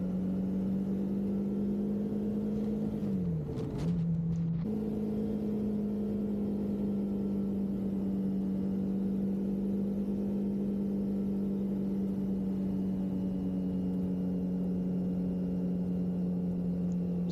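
A Triumph Scrambler 400X motorcycle riding at steady speed, its engine holding a constant hum with a brief dip and recovery early on, accompanied by continuous wind noise.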